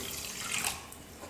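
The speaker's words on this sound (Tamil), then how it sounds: "3/4 கப் அளவுக்கு தண்ணி சேர்த்துக்கிறேன்." Water poured from a measuring cup into a pan to make sugar syrup for badusha, a steady soft splashing trickle that runs the whole time at moderate level, close by, with no talking.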